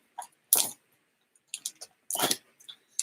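A single sharp sneeze bursts out near the start, followed by a few quieter breathy sounds and rustles in an otherwise quiet room.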